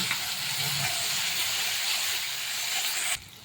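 Chutney hits hot oil already spiked with cumin and mustard seeds in a wok and sizzles with a steady, close hiss that cuts off abruptly near the end.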